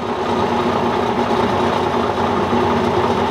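A Bridgeport Series II heavy duty vertical mill with a number 40 taper spindle runs at about 1,000 RPM, giving a steady, loud mechanical hum and whine that holds evenly throughout without any talk.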